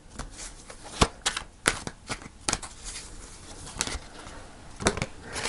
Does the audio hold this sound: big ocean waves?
no